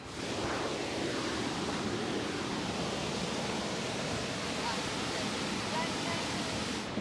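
Rushing water of the Eisbach, a man-made surfing river in Munich's English Garden, a constant broadband roar that stays steady and even throughout with no breaks.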